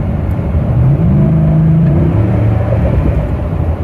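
A Ford F150 5.0 V8 idles with a Rough Country cold air intake fitted, giving a loud, steady low rumble with a mellow grumble and no revving.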